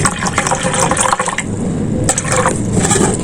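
A full glass of water being poured into a container while making a hair serum, with a continuous close splashing and gurgling stream lasting several seconds.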